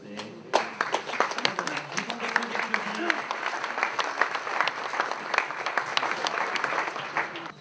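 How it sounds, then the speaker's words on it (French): An audience claps for French astronaut Claudie Haigneré at a gathering marking thirty years since Jean-Loup Chrétien's first crewed spaceflight; steady, dense applause bursts in and carries on throughout, with a voice briefly heard over it early on. "vous l'applaudissez"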